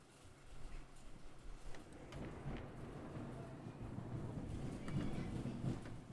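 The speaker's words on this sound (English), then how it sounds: "This is the goofiest thunder I've ever heard in my life." A fake-sounding thunder sound effect, a low continuous rumble that builds and rolls steadily for several seconds, fairly loud and alone.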